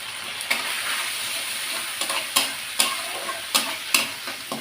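A ground paste of garlic and dried chillies frying with turmeric powder in a hot pan, a steady loud sizzle with regular spoon scrapes and taps against the pan, close by and without talk.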